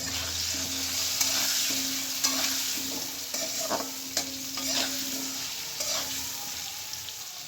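Potatoes seasoned with salt and turmeric fry in a pan with a steady sizzle, broken up by repeated scraping strokes of a spatula during stirring; no voices, with a low hum running underneath.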